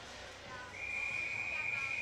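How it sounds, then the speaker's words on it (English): A referee's whistle blows during an ice hockey game, one long steady shrill blast over the low rumble of the arena crowd. "And there's going to be a whistle here on Ben Brandt."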